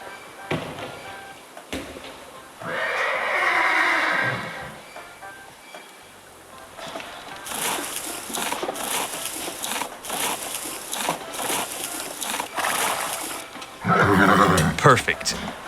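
A horse neighs in the video game Saddle Up: Time To Ride, loud, shrill whinnies standing out among game music and effects, with a voice talking over parts of it.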